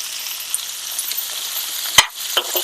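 Cucumber pieces tossed into a hot pan for a raw cucumber chutney, giving a steady close sizzle of frying with a few sharp clinks and scrapes of stirring near the end.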